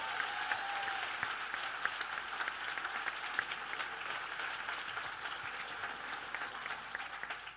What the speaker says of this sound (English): Got another round of applause, please